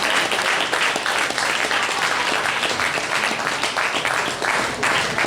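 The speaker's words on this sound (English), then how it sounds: "Let's give him a hand." A live audience applauds loudly and steadily after a debate on reasons to believe in God, with dense clapping holding throughout.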